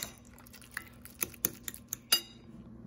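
A spoon scrapes and clinks against a bowl while mixing a Greek avocado dip with yogurt and lemon. About half a dozen sharp, light taps come at irregular moments, close and fairly quiet.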